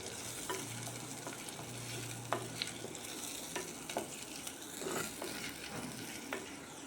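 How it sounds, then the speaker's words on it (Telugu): Curry leaves, onions and green chillies fry in a pan with a steady, quiet sizzle, while a spatula scrapes and stirs in irregular clicks and strokes close by, with no voices. "కరివేపాకు వేసాను, ఉల్లిపాయలు, పచ్చిమిర్చి వేసానండి. ఇవి కొంచెం సేపు ఫ్రై చేసుకుందాం,"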